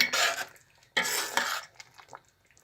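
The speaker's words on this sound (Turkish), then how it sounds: "Biraz da karıştıralım." Apricot jam being stirred in a pot gives two bursts of scraping and clattering, the second longer, then quieter scattered clinks, close and with no speech.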